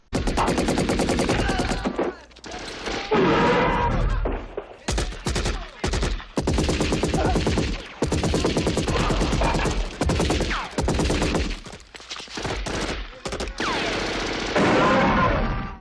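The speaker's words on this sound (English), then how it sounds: "You just hallway shoot, and everyone's just a target, and they get riddled with bullets." Loud bursts of automatic gunfire from an Xbox shooter game, close and aggressive, with rapid fire clustered in dense runs and short breaks between them.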